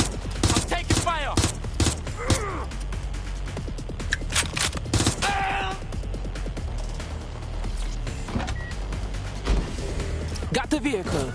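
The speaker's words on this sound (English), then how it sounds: "I'm taking fire." Rapid gunfire in the video game Watch Dogs: Legion crackles in dense bursts through most of the stretch, loud and close, with game voices talking over the shooting.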